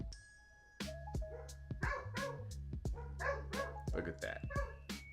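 A gray dog barks in a run of sharp, repeated barks at a moderate distance, under a low steady hum, while a person talks over the barking.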